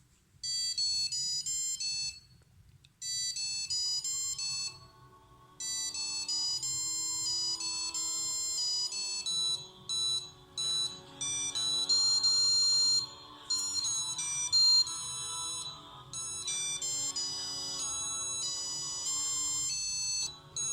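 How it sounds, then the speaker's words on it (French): A small electronic buzzer beeps out the Bella Ciao melody in thin, piercing square tones, note after note with short gaps, steady and fairly quiet, with no talking. "avec juste un petit buzzer comme ce que j'utilise avant, vous pouvez essayer de jouer la musique"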